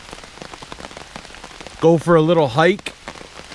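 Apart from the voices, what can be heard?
heavy rain at a bushcraft campsite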